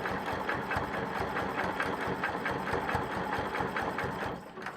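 A quilting sewing machine stitches around an appliqué letter M on a patriotic quilt, a close, steady, rapid mechanical whir with an even pulsing rhythm that eases off at the very end.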